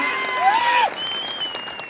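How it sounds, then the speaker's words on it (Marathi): Audience at a farmers' gathering in Daregaon breaking into loud, dense applause, with a sustained tone and voices briefly over the clapping before it settles to a steady patter. "काय जोरदार टाळ्या पाहिजेत मला"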